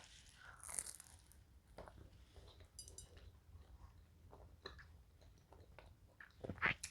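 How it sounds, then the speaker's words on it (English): Crunching bites into dense, flourless organic Ezekiel-style bread, with a few brittle crunches and soft chewing, close and quiet, no talk. "A little bit of a crunch."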